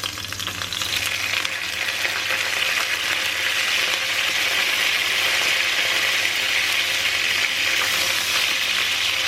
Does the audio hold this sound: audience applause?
no